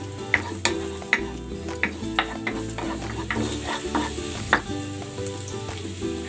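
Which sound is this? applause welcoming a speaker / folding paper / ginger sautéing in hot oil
ginger sautéing in hot oil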